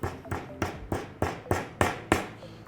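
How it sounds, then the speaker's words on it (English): A hammer taps a nail gently to start it in wood, eight light, evenly spaced knocks in a steady rhythm, close and fairly soft, with no talking. "Then take your nail and you're just going to start it."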